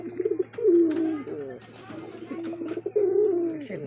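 A pair of Bombay Indian pigeons coos close by in repeated throaty, bubbling phrases, with a low steady hum underneath.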